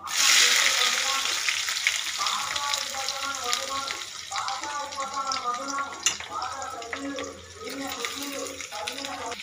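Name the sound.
onions frying in a pan for capsicum tomato curry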